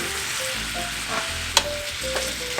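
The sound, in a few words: sausage browning and sizzling in a pan, stirred with wooden spoon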